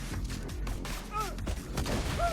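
An explosive shotgun fires in the video game Borderlands 2, with several booming blasts and crackling impacts that follow closely on one another against busy in-game effects.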